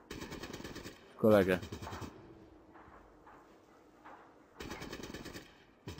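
Automatic gunfire in the Fallout: Tactics video game comes in short rapid bursts separated by quieter stretches, with someone speaking briefly in between.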